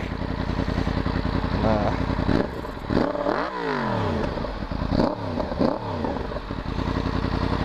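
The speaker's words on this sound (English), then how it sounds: "It's definitely got a lot more low end grumble than it did stock." A Yamaha FZ-10 motorcycle with a Yoshimura exhaust idles with a deep grumble, then revs in several sharp bursts that rise and fall, loud and close.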